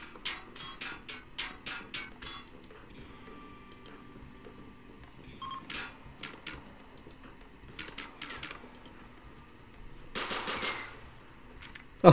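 RimWorld colonists fire on attacking raiders: uneven bursts of sharp, clicky gunshots, some in quick runs, at moderate level with pauses between volleys and a louder burst near the end, no voices.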